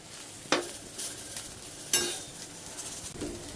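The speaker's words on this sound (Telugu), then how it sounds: "అన్నీ బాగా కలిపి హై కాదు సిమ్ కాదు మీడియంలో వేయించుకోవాలి" Okra (bhindi) frying in a pan over medium heat, a faint sizzle under a few distinct scrapes and knocks of a spoon stirring against the pan, close and quiet, no talking.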